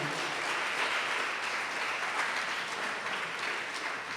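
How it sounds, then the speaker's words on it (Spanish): A church congregation gives a strong round of applause for a helper named Chuchito, a continuous, full wash of many hands clapping at moderate distance with no talk over it. "Por favor, bríndele un fuerte aplauso a Chuchito"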